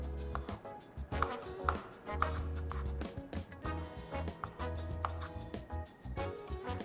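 A knife chops fresh strawberries into small cubes on a cutting board, giving a quiet, close series of irregular taps and thuds that run throughout without talk.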